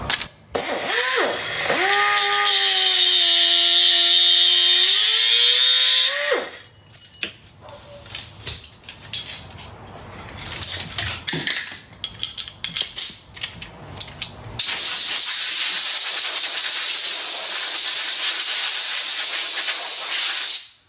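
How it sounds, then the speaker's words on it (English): An angle grinder with a cutoff wheel cuts into a metal fuel sending unit: a loud, whining spin that shifts in pitch, then clattering knocks, and a harsh, sustained, hissing grind. "So I'm gonna hit this with a angle grinder real quick, or cutoff wheel"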